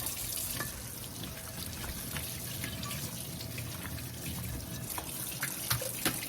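Patterned Goodwill dishes washed by hand in a kitchen sink, with steady running tap water and faint clinks of dishware throughout.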